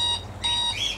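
Two short bursts of high electronic beeping from a phone, a brief shrill alert tone played twice in quick succession.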